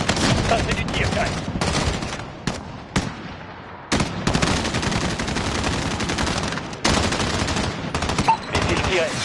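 Bursts of rapid gunfire from a Jaguar aircraft in a video game, loud heavy rattling volleys broken by short gaps, with radio-style voices faintly underneath.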